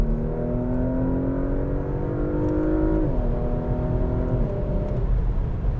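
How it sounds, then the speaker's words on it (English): A Porsche Macan Turbo engine revs close up, pitch climbing steadily, then drops sharply on a downshift around the midpoint and again shortly after, with a continuous loud drone and no talking. "let's just do a little downshifting here and see what happens"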